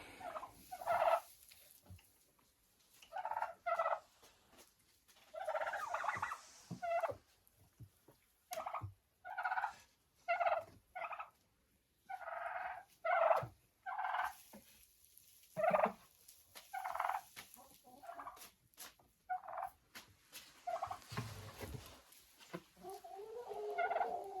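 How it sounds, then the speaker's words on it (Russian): Turkeys kept by a farm nest gobble in short bursts, repeating again and again at an uneven pace for more than twenty seconds, close by and quiet, with gaps of near silence in between. "Индюки — травоядная птица."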